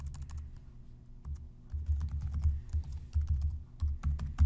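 Keys clatter on a computer keyboard as someone types an email address into a form, a quick irregular run of close, soft clicks with short pauses between bursts.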